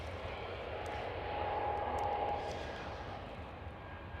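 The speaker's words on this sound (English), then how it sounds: "There goes the TAP A320 Neo" A TAP Airbus A320neo airliner at Amsterdam Schiphol airport: a faint, distant jet engine rumble and whine that swells slightly midway and then fades, steady and unbroken.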